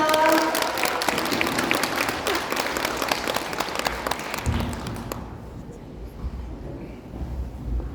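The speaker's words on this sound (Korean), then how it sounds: "큰 박수로 받으시기 바랍니다." Audience applause welcomes the speaker at a seminar on the Ripple cryptocurrency book, a loud, full crowd clapping for about five seconds before fading to a quiet room.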